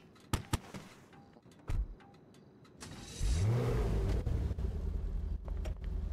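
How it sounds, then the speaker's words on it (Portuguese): An old car in the GTA video game sputters and stalls after a few sharp clicks, then a low rumbling engine churns and whines steadily, close and fairly loud, with no talking. "Ixi, o carro enguiçou, mano."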